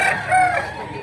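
A young bull stag rooster lets out a single brief crow, close and fairly loud, with a bright, harmonic call that fades out quickly.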